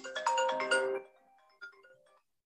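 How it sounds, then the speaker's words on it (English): A mobile phone ringtone plays indoors, a loud electronic melodic burst of about a second, then a fainter trailing phrase before it cuts off. "sorry about that. I didn't have my phone off."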